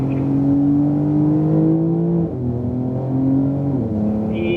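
A 2018 Porsche 911 Turbo S on a race track, its engine droning steadily and loudly from inside the car as it accelerates, with a brief dip and gear change midway before pulling again.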